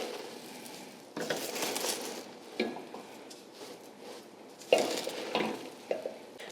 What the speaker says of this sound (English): I want to mix this until it's nice and fully incorporated